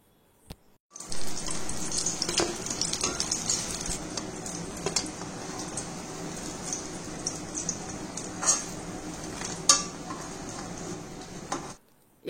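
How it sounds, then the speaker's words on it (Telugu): Organic brinjals (eggplants) frying in oil in a pan give a steady, dense sizzle at close range that runs for about ten seconds, marked by occasional sharper pops and crackles, with no talk over it. "కాయలు అయితే బ్రౌన్గా వేగనియండి"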